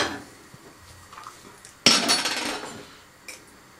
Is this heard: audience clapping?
no